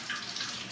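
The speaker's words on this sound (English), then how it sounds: "Just going to run some water down there and then ream these out." Water runs from a tap down a cafe sink drain, a brief, soft, steady hiss and splash with no talking.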